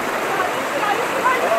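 Steady broadband rush of a waterfall and stream flowing close by on a forest walk to Nüzhetiye Waterfall in Gölcük, continuous and fairly loud with no clear breaks.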